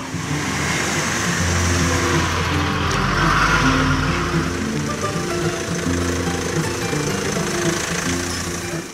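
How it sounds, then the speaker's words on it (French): A convoy of trucks drives onto a site at dawn for a water borehole drilling project, making a loud, continuous engine rumble and roar that holds steady for several seconds with no voices. "un convoi de camions pénètre sur le terrain"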